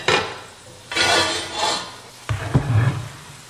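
Clanks and scrapes sound as a cast iron pan is pulled from the oven and handled, with a few separate metallic knocks and shuffles, close and moderately loud.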